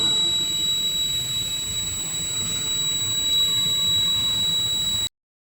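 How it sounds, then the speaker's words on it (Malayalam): A water level detector's steady, high electronic alarm tone buzzes continuously for several seconds over low background hiss, then cuts off abruptly. "രണ്ടാമത്തെ ബ്ലേഡിൽ തട്ടിയപ്പോൾ ഇതിന്റെ അലാറം വർക്കാവുന്നു."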